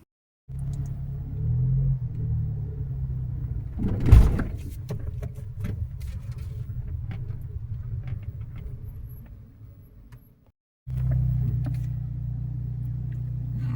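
A car rumbles steadily along a road from inside the cabin, a low continuous engine and tyre drone with a thump partway through, fading briefly to near silence before the rumble resumes.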